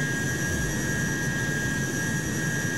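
Jet airliner engines roaring just after takeoff in Microsoft Flight Simulator: a steady, loud, even turbine roar with a high whine layered over it, continuous and unbroken, with no talking.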